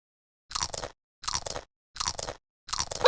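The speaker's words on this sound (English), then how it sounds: "Feed Polly. Polly wants 4 crackers." A parrot in a video game crunches crackers in four short, evenly spaced bursts separated by silence, each crisp and close.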